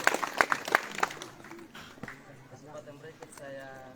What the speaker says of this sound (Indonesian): Kita berikan tepuk tangan kepada Bapak.